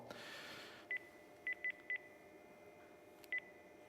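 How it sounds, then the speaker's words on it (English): Telephone keypad tones from dialing a VoIP call: six short, evenly pitched DTMF beeps in an irregular sequence, clear over a low steady background hiss, with no voices. "I'm going to make a phone call"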